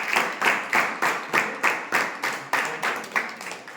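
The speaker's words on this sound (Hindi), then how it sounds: "प्रकाश सर, तो उनके लिए जोरदार तालियां।" An audience claps in slow, steady unison, about ten crisp rhythmic claps at roughly two per second, for a guest at a school class presentation.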